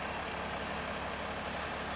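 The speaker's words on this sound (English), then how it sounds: "Once that was done, the engine started right up" Close, steady diesel clatter from a Mercedes OM642 engine freshly started and idling after an injector replacement, an even, dense knocking hum with no voices.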